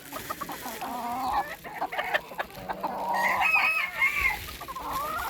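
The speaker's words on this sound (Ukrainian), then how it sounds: "Зараз ще цих курочок випущу. Там пару півників з ними." Chickens cluck busily nearby while a rooster crows, overlapping calls rising and falling with no talking.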